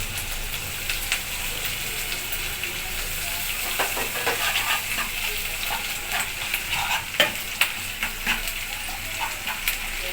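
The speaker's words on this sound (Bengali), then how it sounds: "পেঁয়াজের কাঁচা গন্ধ চলে গেছে, এখন আদা আর রসুন বাটা দেব।" Ginger garlic paste fries with onions in a pan, the sizzle continuous while a spoon scrapes and stirs in irregular clacks that grow busier toward the end; no one talks.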